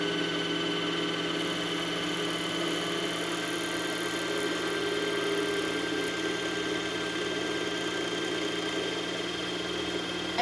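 Singer front-loading sewing machine winding a bobbin, a continuous steady motor whir and hum running unbroken at even loudness, close and alone with no talking.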